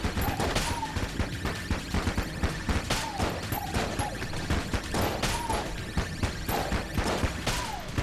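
A gamma ray gun fires in the video game Enter the Gungeon: dense, continuous bursts of game weapon fire with repeated zapping sweeps and impacts under busy music, loud and steady throughout.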